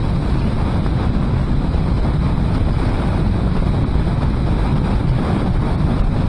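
Heavy wind buffets the microphone while a motorcycle rides behind a semi truck, a loud, constant roaring rush of turbulence with no break and no voices.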